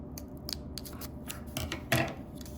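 Scissors snip through cardboard in a string of short, crisp cuts with one louder slice near the end, all close by and fairly quiet, with no talking.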